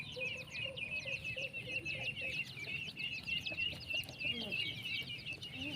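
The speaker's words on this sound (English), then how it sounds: "Ooh, wow, many chicken." A crowd of chickens clucks and chirps on a countryside farm, a dense busy chorus of overlapping calls at moderate distance, steady throughout without talk.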